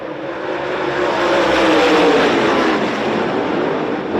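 Race cars roar off at the start of a heat race at Georgetown Speedway, a loud, swelling engine rumble that builds and stays broad and continuous as the field accelerates.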